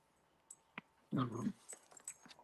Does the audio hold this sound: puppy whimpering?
yes